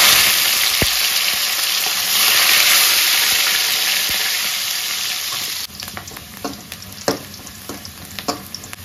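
Onion, cumin and curry leaves frying in hot oil for drumstick sambar give a loud, steady hiss that eases slightly, then turns into scattered close stirring clicks and scrapes, with no speech.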